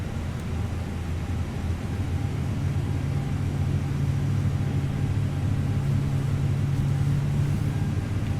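An Airbus A321 jet engine spools up in Microsoft Flight Simulator 2020, producing a steady low rumble with a rising hum that holds level for several seconds, with no talking.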